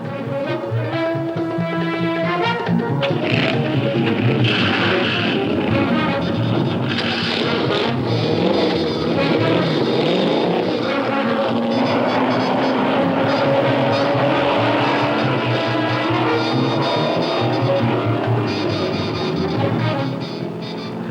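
Several loud racing engines roar and rev together at a Le Mans-style race start at Sebring, pitches rising and overlapping in a continuous, chaotic din.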